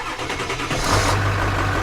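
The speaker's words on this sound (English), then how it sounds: "Let's see if the old single cab starts up." An old single cab pickup truck engine cranks and catches, its low rumble settling into a steady, loud idle close to the microphone.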